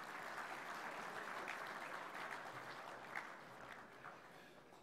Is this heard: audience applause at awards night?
yes